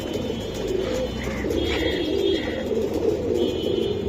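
Pigeons coo in soft, continuous low rolling calls amid a steady murmur of other birds, with a few higher chirps scattered through.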